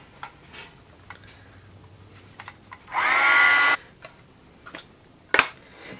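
A heat tool blows briefly over a watercolor card, a steady whooshing hum lasting under a second amid quiet tapping and handling noises.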